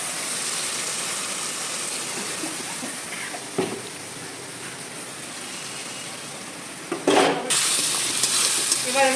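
Pea lentil fritters sizzle steadily in a pan with a spice paste, a constant close frying hiss, interrupted now and then by clinks and scrapes of a spatula stirring.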